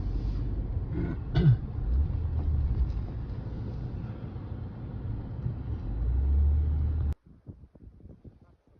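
Car driving through a canyon near Almaty, Kazakhstan: a steady low road rumble and engine drone for about seven seconds, with brief bumps, then a sudden cut to near-quiet with faint scattered clicks.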